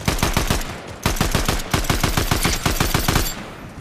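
Rapid automatic gunfire from the video game Fortnite, two loud bursts of evenly spaced shots separated by a brief pause, close and sharp with no talking.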